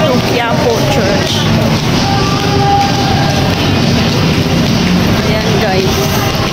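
Aboard a moving LRT light rail train in Manila, a steady rumble and rattle of the carriage runs throughout, with a voice talking over it.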